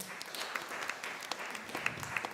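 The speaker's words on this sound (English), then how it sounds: "Can we have a round of applause?" A round of applause from the audience at a constitution quiz grand finale, steady clapping from a moderate crowd with a few sharper individual claps standing out.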